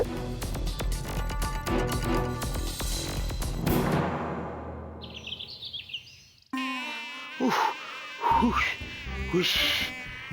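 A cartoon mosquito buzzes in a whining, wavering drone that shifts pitch as it flies, mixed with musical sound effects and bursts of other tones.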